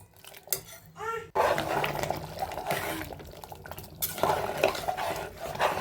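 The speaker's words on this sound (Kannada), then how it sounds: "1-2 ಸಾರಿ ಅದನ್ನು ನೀಟಾಗಿ ಮಿಕ್ಸ್ ಮಾಡಿಬಿಟ್ಟು ಕುದಿಯೋದಕ್ಕೆ ಬಿಡ್ತೀನಿ" Rice being mixed into mushroom biryani in a pot, with a spoon scraping and clinking against the metal in steady stirring strokes, close and fairly loud, with some wet, liquid sloshing and no talk.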